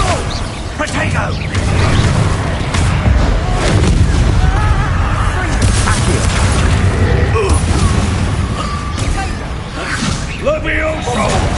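Confringo blasting spell explosions in Hogwarts Legacy during a chaotic duel, repeated loud booms, whooshes and clattering impacts packed throughout, with shouting voices over the fight.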